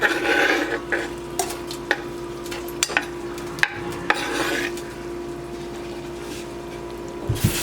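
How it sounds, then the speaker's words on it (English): Steak in hot oil in a pan, a soft sizzle under repeated sharp scraping and knocking of a silicone spoon stirring the beef, with a faint constant tonal hum behind. "use the same pan and add oil in it. And I am going to put the steak in there."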